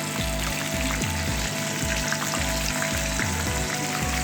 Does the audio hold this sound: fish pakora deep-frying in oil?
yes